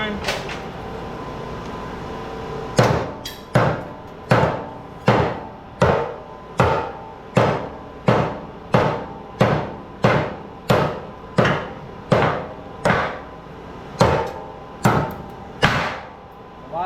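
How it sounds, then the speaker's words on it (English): Steady hammer blows pound on cooked generator stators and rotors in a shop, about one strike per second, loud and close after a few seconds of background noise. "Hammer time."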